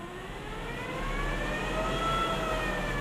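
A BMW electric conversion car accelerates in third gear with a rising electric motor whine, a smooth sweeping tone that climbs steadily over road rumble.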